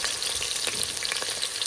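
Onions frying in hot oil in a pan along with cardamom, star anise and fennel for a chickpea biryani, giving a steady, close, crackling sizzle with no talking.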